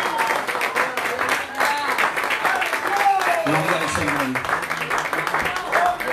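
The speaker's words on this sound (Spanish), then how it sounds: "Denle un aplauso grande al Padre" A church congregation applauds in steady, dense clapping while voices call out and speech runs over it throughout.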